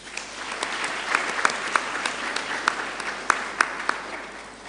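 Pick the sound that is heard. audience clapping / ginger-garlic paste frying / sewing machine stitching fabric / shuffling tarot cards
audience clapping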